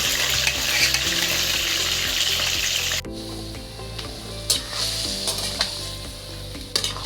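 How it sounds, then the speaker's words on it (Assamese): Marinated chicken pieces sizzle and spit as they fry in hot oil in a wok, a steady close crackle that drops to a quieter hiss partway through, with a few louder pops and some clatter of stirring. "এইফালে কেৰাহীত মই তেল দি থৈছিলোঁ তেল গৰম হৈ গ'ল আৰু মাংসখিনি মই এনেদৰে লাহেকৈ দি দিছোঁ"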